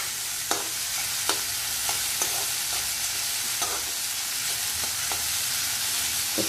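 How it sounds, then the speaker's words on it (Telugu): A sweet bottle gourd mixture fries steadily in a pan with a constant soft sizzle, punctuated about once a second by short taps and scrapes of a spoon stirring, close and moderately quiet. "బాగా వేగనివ్వండి"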